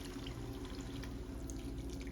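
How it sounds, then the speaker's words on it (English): Water pours into a pan of lamb and spinach curry, a faint, steady splashing stream that continues throughout without talk. "Then pour in water."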